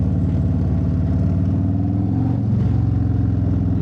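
A 2021 Harley-Davidson Street Glide with slip-on exhausts idles close by, a deep low rumble with an even pulsing beat and a slight rise in pitch partway through, with no talk over it.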